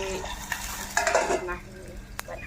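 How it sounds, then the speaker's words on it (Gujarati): Onions and green chillies frying in oil in a home kitchen pan, a steady close sizzle with a few clinks and scrapes of a utensil against the pan. "ડુંગળી ને મરચાં બધા તેલમાં નાખી ચડવા દઉં"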